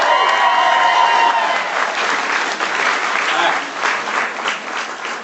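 A large audience at a regional business training event breaks into loud, sustained applause with some cheering, the dense clapping rolling on for several seconds while a voice carries over it at the start.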